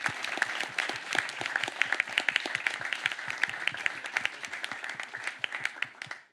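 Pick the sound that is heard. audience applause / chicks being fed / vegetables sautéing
audience applause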